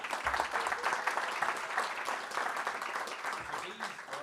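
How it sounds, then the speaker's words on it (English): Audience at a school board meeting applauding students for their state test scores, a steady, fairly distant wash of clapping that holds throughout with a few faint voices underneath. "But another big round of applause."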